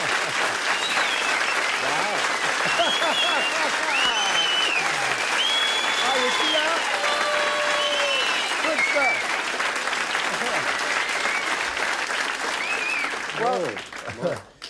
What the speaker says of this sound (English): You sure you don't have a machine down there with all that applause?